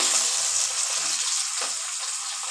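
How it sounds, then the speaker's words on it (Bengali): Chopped onion fries in a pan with a loud, continuous hiss and crackle, close up and steady, with faint stirring bumps under it and no talking. "এবার আমি দেব পেঁয়াজ কুচি। এই যে পেঁয়াজ কুচি দিচ্ছি"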